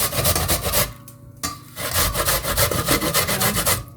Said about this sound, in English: now I'm going to grate my ginger